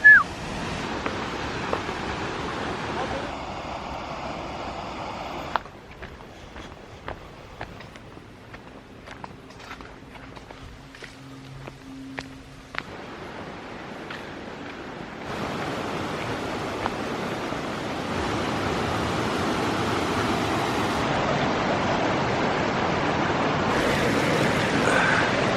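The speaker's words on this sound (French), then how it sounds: "Et puis on a donc la cascade en bas." A waterfall far below a viewpoint in Magelang, Indonesia, gives a continuous broad rush of water that shifts in level across the stretch, with scattered small clicks and no voices.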